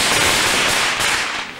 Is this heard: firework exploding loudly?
yes